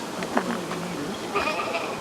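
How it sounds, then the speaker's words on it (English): Two elderly retired fire goats bleat at a water treatment plant, a few close, wavering calls with one louder cry early and another burst toward the end. "these are our goats"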